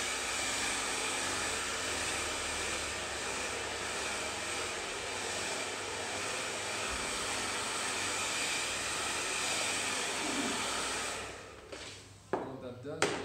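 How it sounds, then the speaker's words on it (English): A really hot blow dryer runs over hair styled with Reuzel oil-based pomade, giving a steady, close, loud airy roar for about eleven seconds before it cuts off, followed by a few handling knocks. "I'll just loosen up a little bit by going over it really shortly with a really hot blow dryer."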